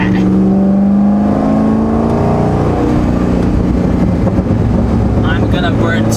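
Cammed Corvette engine on a dyno, revving loudly with a rough, lumpy idle rise and fall, close to the microphone with wind-like roar, while a person talks over it.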